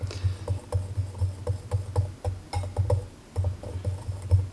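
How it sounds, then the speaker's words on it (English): Wire whisk mixing dry cracker ingredients with lard in a bowl: a rapid, steady run of soft rhythmic taps and thumps against the bowl, close and alone with no talking. "I like to use a wire whisk just to get everything mixed together."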